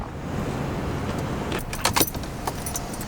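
Keys jangle and click into the ignition of a 1987 Mercedes-Benz 190E 2.3-16, a short burst of metallic rattles around the midpoint over a quiet cabin background.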